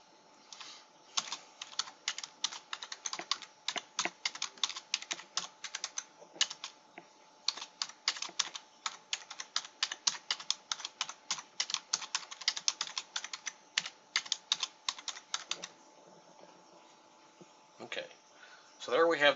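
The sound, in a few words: typing on a computer keyboard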